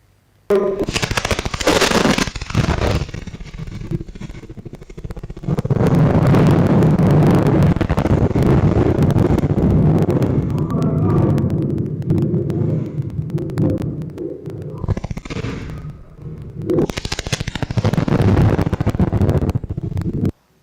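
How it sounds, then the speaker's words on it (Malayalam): Fireworks blasts from the Mundathikode fireworks accident, caught on a CCTV camera: loud, dense bursts of explosions and crackling with a sustained roar that carries on for most of the stretch, then fresh bursts near the end. "മുണ്ടത്തിക്കോട് വെടിക്കെട്ട് അപകടത്തിന്റെ ഞെട്ടിക്കുന്ന ഒരു CCTV ദൃശ്യങ്ങൾ"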